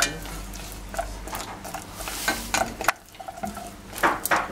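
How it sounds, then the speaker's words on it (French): Almonds being stirred into caramelizing sugar in a pan, a close series of uneven scraping and rattling strokes with a soft sizzle underneath, one brief pause midway, and a voice talking over it. "je verse mes amandes, je mélange ces amandes au sucre"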